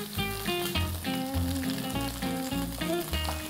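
Potatoes fry in a pan with a loud, continuous close sizzle and crackle, while a steady tonal hum or music runs underneath.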